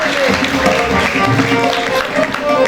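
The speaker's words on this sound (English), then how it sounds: "Audience, please keep clapping." Audience applause at a school awards ceremony honouring students, a steady wash of many hands clapping that fills the moment with a crowd murmur underneath.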